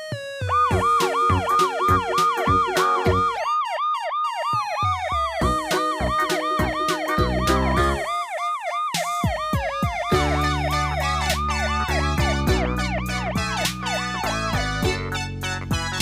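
A cartoon ambulance siren, loud synthetic wailing and two-tone whooping that repeats in quick cycles, shifting pattern partway through amid bright electronic tones, with no voices.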